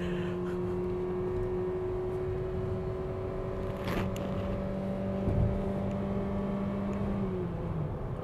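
A 2021 Mitsubishi Xpander MPV's engine hums steadily at moderate volume from inside the cabin on a test drive to Genting, then its pitch drops near the end as the driver lifts off to shift into third gear.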